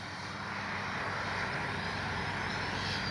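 FMS Integral 80mm RC electric ducted-fan jet passing low, a loud continuous rushing whine that builds steadily and holds throughout.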